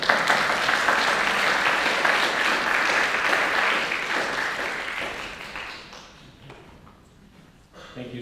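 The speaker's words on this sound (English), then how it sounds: "Please join me in a nice warm round of applause for Dr. Nicholas Denishenko." A warm round of applause fills the room at a university presentation on the war in Ukraine. Dense, steady clapping gradually tapers off, leaving a few scattered claps at the end.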